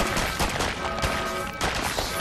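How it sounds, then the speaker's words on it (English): Rapid, dense gunfire from a Fallout Shelter vault battle, a continuous loud crackle of overlapping shots with game effects throughout. "there's just gunshots everywhere"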